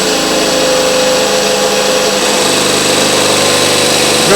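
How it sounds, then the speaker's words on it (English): A crusty old Cummins CP3 fuel supply pump, long seized from sitting, runs with a steady, loud mechanical whine and hum alone throughout, with a slight shift in tone partway through. "Supply pump's on."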